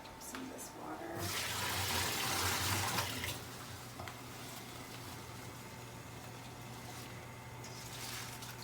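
Water runs loudly for about two seconds, likely a tap, then fades to a low background hiss in a kitchen where rapini is being blanched.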